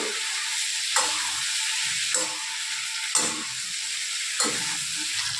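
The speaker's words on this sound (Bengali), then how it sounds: "এই ডিমটা আমরা এর মধ্যে এবার ঢেলে দেব। দিয়ে এবার নাড়াচাড়া করবো, ফের ভালো করে মাখাবো এর সাথে।" Fish eggs stirred and frying in a pan give a steady sizzle, with four spoon scrapes against the pan spaced about a second apart. No voices.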